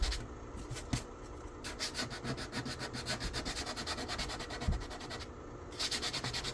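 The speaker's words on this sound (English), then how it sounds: "we'll come back with like 600 grit sandpaper, and then that'll take care of the roughness" Hand sanding with 600 grit sandpaper on a model ship's phaser banks and rims, a rapid rhythmic back-and-forth rasp that stays close and steady, with no voices.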